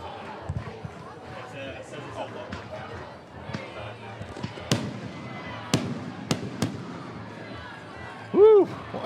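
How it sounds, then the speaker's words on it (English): Fireworks bursting at a high school football game, a series of sharp booms scattered through the crowd noise, with a short whistling tone near the end and an announcer talking over them. "They're going to run out of fireworks pretty soon."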